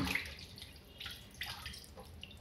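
Food is rinsed by hand in water, making soft, quiet splashes and scattered drips close by, with no talking.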